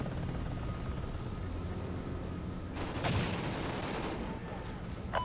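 In a video game, an Mi-24 Hind helicopter's rotor thumps steadily beneath a rumbling drone. Gunfire-like bursts cut in midway, and a voice speaks faintly over the noise.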